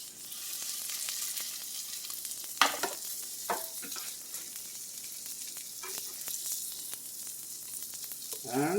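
Italian turkey burger patties frying in a pan, a steady close sizzle and hiss running throughout, punctuated by several sharp spatula clicks and scrapes against the pan.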